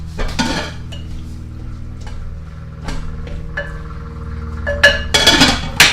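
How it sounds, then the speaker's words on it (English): A spoon stirs cooked linguine and olive oil in a metal pot, making several distinct clanks and scrapes against the pan, louder toward the end, with no talk. "I'm going to give that a little stir and pull that olive oil into the mix."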